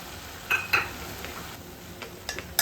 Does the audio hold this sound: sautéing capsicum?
yes